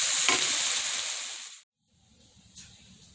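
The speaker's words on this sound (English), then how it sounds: "So my mushrooms and the peppers and the garlic and shallots are starting to get nice and brown. And I'm going to add in my quinoa." Mushrooms, peppers, garlic and shallots sizzle loudly in a frying pan with a brief stir, then the hiss cuts out abruptly and returns fainter as quinoa goes in.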